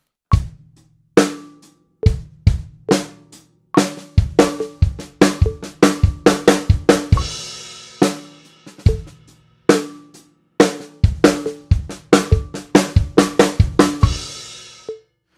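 A drum fill played solo around the toms, sharp hits in quick groups with a few crashing accents, loud and close, pausing briefly between phrases.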